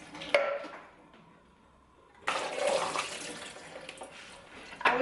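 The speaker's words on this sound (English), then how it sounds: "I'm just going to drain the garbanzo beans." Water from a can of garbanzo beans splashes into a sink as they drain, a soft trickle that turns into a louder, steady rush of pouring liquid with a clatter near the end.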